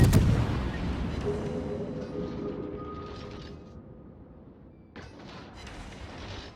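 Heavy naval guns of the Smolensk cruiser firing in World of Warships, a loud booming opening blast that rolls off into a long fading rumble, with a second softer report near the end.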